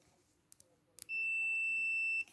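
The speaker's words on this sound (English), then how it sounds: "put your multimeter on a buzzer" A multimeter set to continuity gives a steady high-pitched electronic buzz for about a second while testing cables on a Mercedes KE-Jetronic cold start valve, preceded by a few faint clicks of probes touching.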